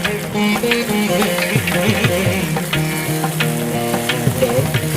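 Tomato masala with chilli powder frying in a pan, a steady close sizzle with stirring scrapes and crackles throughout.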